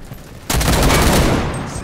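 Gunfire in the WWI game Over The Top starts abruptly as a dense, loud barrage of rapid shots that rumbles on, with a faint voice briefly audible beforehand.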